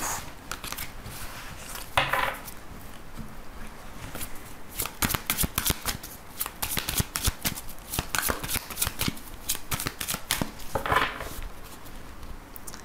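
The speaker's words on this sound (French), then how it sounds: "je reprends les cartes et on va voir aussi les messages du tarot" Tarot cards being shuffled by hand, a steady run of crisp riffling and flicking close up, with a few louder bursts, no talking.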